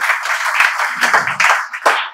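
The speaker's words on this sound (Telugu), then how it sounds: "claps for Arjun" A group of students in an English class applauds a classmate, several pairs of hands clapping together in a short, fairly loud burst with uneven rhythm and brief dips.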